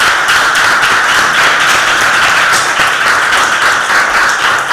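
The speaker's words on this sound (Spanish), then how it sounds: "te has ganado un aplausazo" Audience applause at a poetry conference session, a dense, steady wash of many hands clapping that fills the whole stretch at full loudness without pause.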